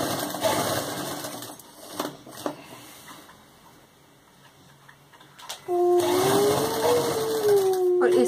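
Sewing machine stitching along both sides of a salwar fabric piece, a steady mechanical whir running first, fading to a quiet lull, then returning loud and continuous with a rising whine.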